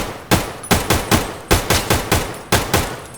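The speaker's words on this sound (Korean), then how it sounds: "여기서 총소리를 두 번 정도 내주세요" Gunfire in the video game Escape from Tarkov: about nine sharp, loud shots in uneven bursts, each with a short decaying tail, with no voices.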